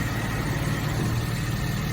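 A Suzuki Samurai engine idles in neutral with the clutch out, a steady low rumbling drone heard close and unchanging for a couple of seconds with no voices.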